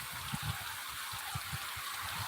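Rain falls steadily in a village downpour as a broad, even wash of sound, with soft low thumps of dripping water pulsing underneath and no voices.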